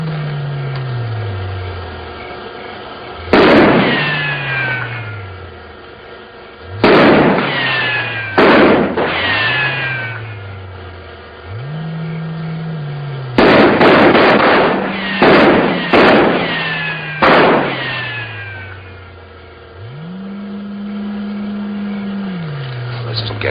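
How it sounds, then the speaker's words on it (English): Soldiers in a film fire several rounds in a few clustered bursts of sharp, loud cracks, with low droning tones continuing between the shots. "Go ahead, Corporal. Fire a few rounds."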